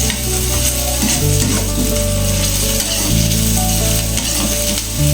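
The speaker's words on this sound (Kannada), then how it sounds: "ಈರುಳ್ಳಿ ಹಾಕ್ಬಿಟ್ಟು ಈಗ ಹಸಿಮೆಣಸಿನ್ಕಾಯಿ ಹಾಕಿ ಮಂದಿಗೆ ಫ್ರೈ ಮಾಡ್ಕೊತಾ ಇದ್ದೀನಿ" Onions and green chillies frying in oil with mustard seeds and curry leaves for lemon rice: a loud, continuous sizzle close up, with a spatula stirring and scraping through the pan the whole time.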